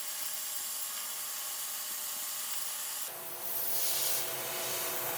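Robotic plasma cutter slicing through a steel beam flange, a steady close broadband hiss that shifts and brightens partway through as the cut continues, with no voices.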